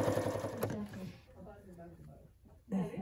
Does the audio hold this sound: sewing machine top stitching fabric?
yes